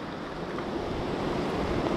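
Steady wind roaring across the microphone on a cold, rainy motorcycle ride, a constant broad rush with no voices.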